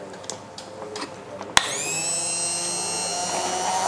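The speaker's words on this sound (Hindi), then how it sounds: "हमारे पास ब्लेंडर है, इससे अच्छे से बेटरली मिक्स कर देंगे" An electric blender mixing a cold cocoa drink kicks on abruptly after a moment of quieter handling noise, then holds a loud, steady whirring whine close by.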